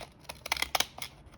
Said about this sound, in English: I'm going to use my decal scissors again.